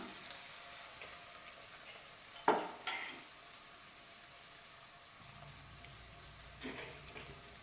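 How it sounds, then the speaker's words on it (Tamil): Sizzling masala for a cauliflower potato gravy stirred in a pan, a steady frying hiss with a few sharp scraping clinks of a spoon against metal, no voices. "இந்த மசாலாலாம் நல்லா கலந்து கொஞ்சம் கொதிக்கட்டும்."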